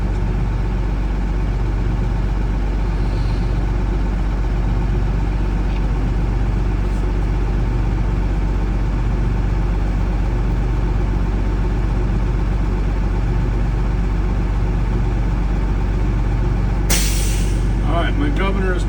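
A bus engine idles loud and steady, with a constant low drone throughout during an air brake test, and a sharp burst of air hiss near the end; faint talk sits under the engine.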